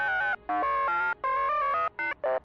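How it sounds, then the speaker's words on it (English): Ringtone-like droid chirps from the video game Star Wars: Knights of the Old Republic II, a series of bright, melodic electronic beeps in quick, uneven bursts separated by short gaps, clear and isolated. "I always call it the ringtone droid because that's what it sounds like to me."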